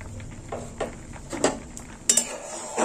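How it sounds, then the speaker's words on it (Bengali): Mung dal being stirred in a pot, with a spoon giving a handful of scattered scrapes and metallic clinks against the pot, faint and close, with a couple of sharper clinks near the end. "একটু নেড়ে চেড়ে দেবো।"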